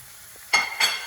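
Ground Italian sausage and ground beef hit a hot pan with two short, close bursts of sizzling and a light clink.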